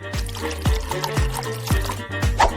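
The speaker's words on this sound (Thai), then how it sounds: "จากนั้นก็เทน้ำลงไป" Water is poured into a container in a kitchen, heard as repeated glugging pours with rising bubbly gurgles that come in short bursts roughly every half second, fairly close and clear.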